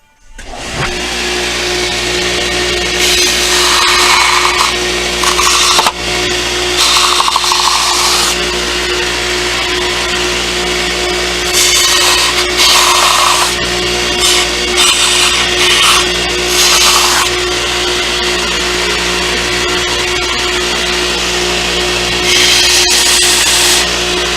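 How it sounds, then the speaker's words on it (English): A power sander smooths the edges of a kydex holster, a loud steady motor drone with a constant hum, broken by repeated bursts of harsher grinding as the edge meets the pad. "You can use the sander."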